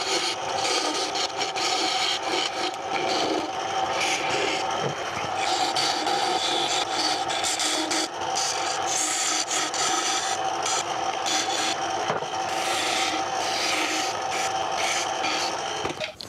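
A wooden birdhouse ornament spins on a woodturning lathe while a tool shapes it, giving a continuous close rasping, rubbing scrape that rises and falls slightly in intensity, with no talking.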